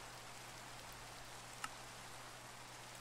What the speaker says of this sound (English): Oh, no rain. Go away.